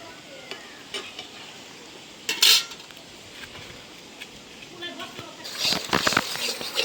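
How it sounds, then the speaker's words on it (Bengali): Cumin, ginger-garlic paste and salt stir-fried together in a pan, a soft sizzle with metal utensil clinks and scraping stirs near the end, while someone speaks over it. "আদা রসুন বাটা লবণ সবগুলো একসাথে দিয়ে দিলাম এখন মশলাটা কষায় নিব"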